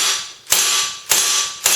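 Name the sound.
BB pistol dry fired, slide mechanism clicking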